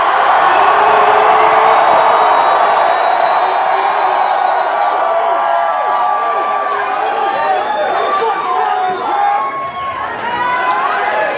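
A loud crowd at a live hip-hop concert cheers and shouts continuously, a dense roar of many voices with whoops rising above it, close and filling the room.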